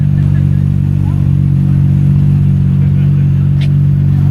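Engine of an R33 GT-R sports car rumbling steadily from inside the cabin as it pulls away, a loud, constant low drone with no distinct revving peaks.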